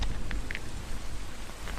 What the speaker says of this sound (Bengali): তার উপর বৃষ্টি